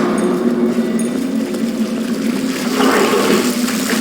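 Water churning and gushing steadily in the video game Portal Stories: Mel, pumped up through damaged machinery, a continuous loud rushing wash with a low hum beneath.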